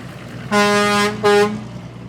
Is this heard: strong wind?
no